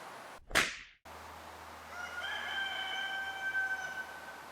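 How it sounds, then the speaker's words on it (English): A rooster crows outdoors in the background, a drawn-out call that sounds moderately distant, heard after a brief sharp noise close by near the start. "You really can't start the show unless you have a rooster crowing in the background."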